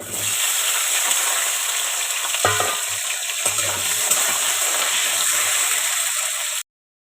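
Potatoes and carrots with five-spice seeds fry in hot oil, a steady close sizzle with a few soft knocks of stirring, then cutting off abruptly.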